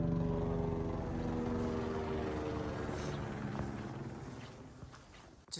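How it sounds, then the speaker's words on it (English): A helicopter near Everest gives a steady low rotor drone with a deep thudding pulse, loud at first and slowly fading as it moves away. "Lots of helicopters today."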